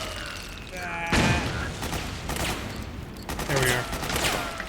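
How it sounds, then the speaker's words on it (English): Mortar rounds fired in Metal Gear Solid 4, a heavy boom near the start followed by a second, fainter launch later, set against steady battlefield noise with no talk over them. "this is a mortar that I'm controlling"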